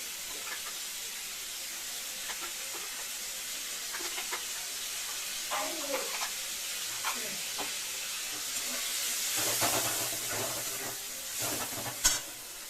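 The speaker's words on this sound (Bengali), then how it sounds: "বেশি ভাজলে একদম চামচে চামচে হয়ে যায়, হালকা করে ভাজবো" Spices and shrimp frying lightly in a pan in a home kitchen, a quiet steady sizzle with occasional stirring scrapes and a brief louder hiss near the end.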